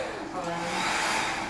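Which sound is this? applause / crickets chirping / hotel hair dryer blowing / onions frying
hotel hair dryer blowing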